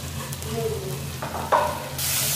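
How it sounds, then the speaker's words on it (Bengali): A paste of ginger, garlic and red chilli, with salt and cumin powder, fries in a pan as a soft, continuous sizzle with stirring scrapes, swelling louder toward the end. "ভালোভাবে মশলাটা একটু ভাজা করে নিয়ে জল দিয়ে কষাবো।"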